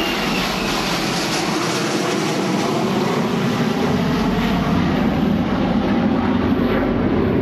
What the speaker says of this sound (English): The plane is a Tupolev 154.